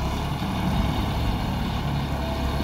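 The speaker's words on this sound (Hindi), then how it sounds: "जैसे अभी बी के पहले में देखिए चलेगा ट्रैक्टर" A John Deere 5310 Gear Pro tractor fitted with a dozer blade runs with a steady, loud, low diesel drone that holds an even engine rumble throughout, with no talk over it.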